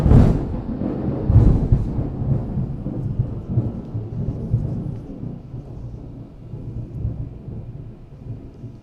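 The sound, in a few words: loud thunderclap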